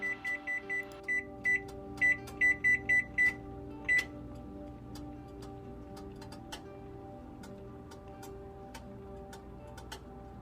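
Electronic beeps from a kitchen timer being set while shrimp biryani cooks on medium-low in a lidded pot. A run of evenly spaced beeps is followed by steady soft ticking over a low hum.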